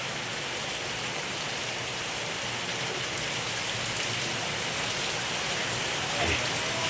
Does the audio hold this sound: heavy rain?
yes